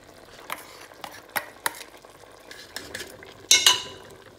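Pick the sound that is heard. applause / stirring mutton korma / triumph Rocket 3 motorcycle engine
stirring mutton korma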